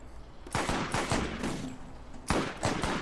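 Gunfire in the video game Borderlands comes as repeated sharp bursts of shots, loud and close, with short pauses between volleys.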